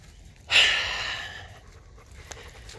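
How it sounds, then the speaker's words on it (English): A dog pants and snorts over a deer bone it is chewing, a sudden close burst of breathy huffing that tails off into quieter breathing. "I have to get this deer bone that my dog is chewing on"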